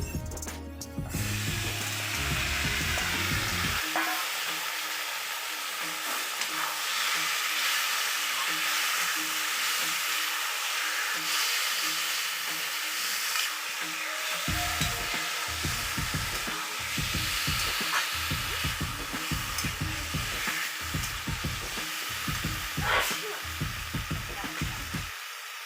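Boiled taro pieces frying with a hilsa fish head in a pan, steady loud sizzling that runs throughout, with scraping and stirring knocks coming in bursts toward the end.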